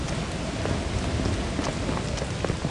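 Steady heavy rain with low rumbling thunder in a video game's rainy weather, a dense continuous wash of patter that fills the whole stretch, loud and close with no speech.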